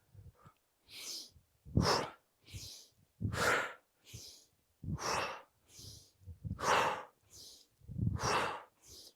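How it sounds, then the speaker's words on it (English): Slow, deep breaths in and out during qi gong squats, close and audible, about ten breathy pulses in an even rhythm with short pauses, no talking. "And exhale on the way up. Breathe on the way down."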